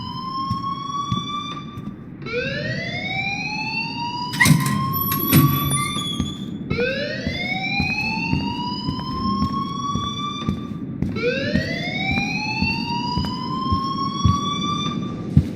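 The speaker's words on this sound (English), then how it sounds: "please turn off that alarm since that's your job." An alarm sounds in the video game Life is Strange as loud, repeated rising whoops, like a siren, cycling steadily under a low background rumble. A few sharp knocks are heard near the middle.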